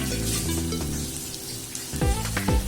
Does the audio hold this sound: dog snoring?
no